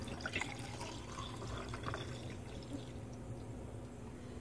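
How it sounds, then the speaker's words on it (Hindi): Sattu sharbat poured into a glass over ice cubes, a soft steady liquid trickle with faint drips and clinks, continuous and close, with no voices. "अब हम सत्तू का शरबत डालेंगे।"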